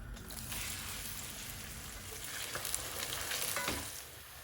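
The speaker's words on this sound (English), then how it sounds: "Oil is heated. I'm going to add the onions now." Onions dropped into plenty of hot oil on the highest heat for a mutton yakhni, a dense, close, continuous sizzle with occasional crackles that eases toward the end.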